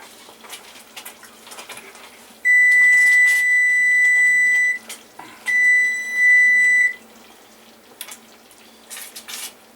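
A kitchen timer sounds while huckleberry jam boils, giving two long loud steady electronic beeps, the second broken briefly, over faint clinks of pots and utensils.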